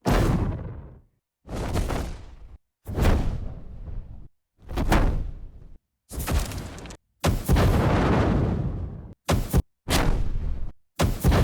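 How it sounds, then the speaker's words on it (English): Designed fire impact effects play as a string of about eight separate whooshing booms with sharp onsets and short decays, each heard alone, split by brief silences. "Obviously I'm looking for a couple of fire sounds for this. Yeah, maybe just the fire impacts."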